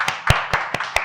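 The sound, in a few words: audience applause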